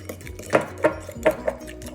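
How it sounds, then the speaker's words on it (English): A whisk or fork beats egg, cheese and black pepper together in a bowl for spaghetti carbonara, four or five distinct clinks against the sides in an uneven rhythm, close and fairly loud. "I'm going to thoroughly blend it so it's all homogeneous"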